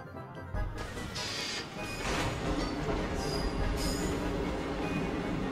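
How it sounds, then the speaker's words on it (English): A recorded train sound effect from the Vandal Hearts video game plays as a continuous noisy rumble with clanks and brief metallic squeals, heard alone. "they just, like, went out to a train yard and just got a microphone and just recorded the train"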